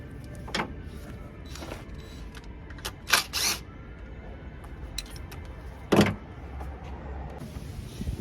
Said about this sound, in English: So this actuator right here, it's a motor. So what happened now, this motor move like this.